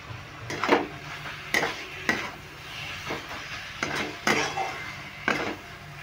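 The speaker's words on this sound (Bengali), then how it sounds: "এই সময় আমি দিয়ে দেবো চিকেনটা, যে ম্যারিনেট করে রেখেছিলাম, এই চিকেনটাকে দিয়ে দিচ্ছি।" Marinated chicken goes into a pan of frying spice paste and oil, with steady sizzling under repeated sharp scrapes and clinks of a spoon stirring against the pan.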